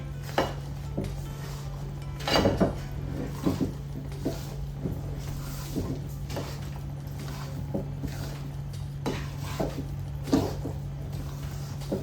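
A thick gram flour barfi mixture is stirred in a pan, giving soft repeated scraping and clinks of a spoon against the metal, close and steady over a constant low hum.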